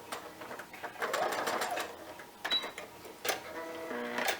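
Sewing machine backstitching quilt fabric for a scrappy star block, with short bursts of quick stitching, a brief pause and a final rattling run, all fairly quiet and close with no talking.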